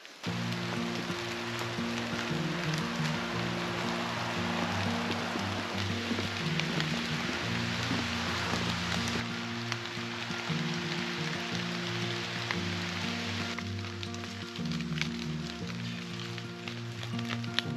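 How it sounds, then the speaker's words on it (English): Steady rain patters and hisses on surfaces near a lake in Southern Ohio, a continuous wash of sound with a low hum underneath. "Now it's raining again"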